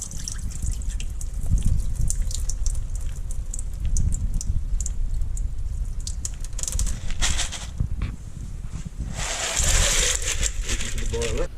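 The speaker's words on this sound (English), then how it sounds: "I rinse them in a bit of water and then just drain it off." Whole peas are rinsed in water and then drained, a continuous wet rushing and trickling with clattering, slushy bursts as the water pours off, steady and close throughout with no talking.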